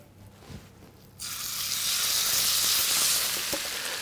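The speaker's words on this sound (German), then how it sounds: "Und dann lassen wir das Fleisch schön vor sich hin anbraten" Goulash beef hits hot fat in a pan and breaks into a loud, sustained sizzle that starts abruptly and holds steady, close up, with faint clinks beneath and no talking.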